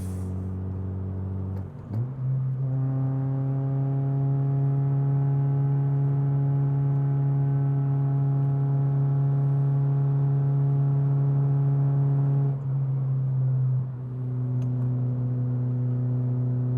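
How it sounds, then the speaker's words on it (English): A Honda K20 engine with VTEC hums at a smooth, steady idle. A brief blip near the start and a slight rev change later interrupt an otherwise even, close drone. "I'm also just gonna miss this K20 sound, man. So smooth."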